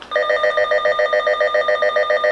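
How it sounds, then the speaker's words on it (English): A weather radio's siren test: a loud electronic alarm beeps in rapid, evenly spaced pulses, a shrill repeating tone from the nearby radio after a brief pause. "So this is the siren test."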